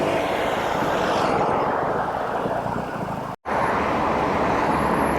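Continuous roar of scooters and cars passing along the road by Circo Massimo in Rome, a steady loud wash of traffic with a sudden brief dropout near the end.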